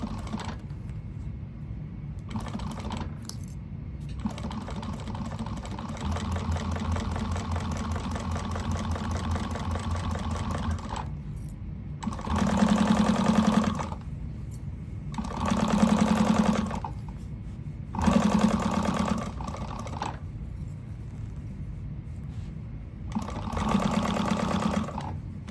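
A sewing machine stitches fabric, first in one long steady run of rapid needle clatter, then in several short, louder bursts separated by quiet pauses, all close by.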